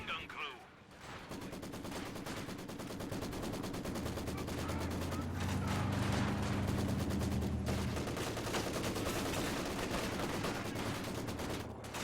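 Sustained Maxim machine gun fire and other gunfire in the Company of Heroes 2 battle game, a dense continuous rattle of rapid bursts with low rumbling explosions mixed in, steady and loud throughout under faint background voices.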